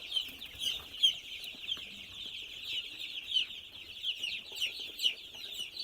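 Young chicks and hens of mixed breeds, including broilers and layers, in a home poultry shed, sounding in a steady chorus of high chirps and soft clucks with a few louder peeps, close and continuous, with no talk.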